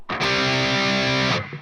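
A single distorted electric guitar power chord is struck once, loud and close, ringing thick and saturated for over a second before being cut short, with nothing else playing.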